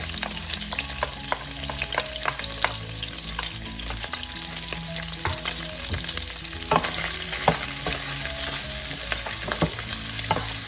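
Garlic sizzling in a hot pan for pork binagoongan, a loud continuous frying crackle with frequent sharp pops and scraping stir sounds, no talking.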